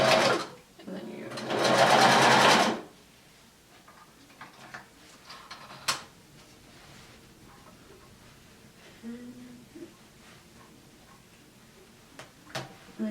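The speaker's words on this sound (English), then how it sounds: "I sewed the two pieces together." A home sewing machine stitching two shirt pieces together, a loud whirring burst of about two seconds near the start, followed by quieter handling clicks and light ticking.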